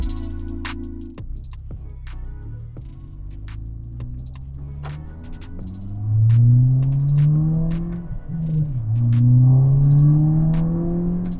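A Volkswagen MK6 GTI engine revs up from idle in rising, surging sweeps, loud and close, easing off briefly before climbing again, with no talking.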